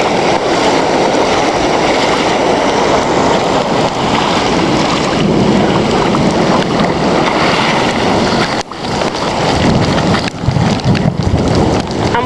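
Rushing floodwater and gusting wind in a severe thunderstorm, a loud continuous roar of water flowing like a river current with heavy wind noise buffeting close by, unbroken throughout.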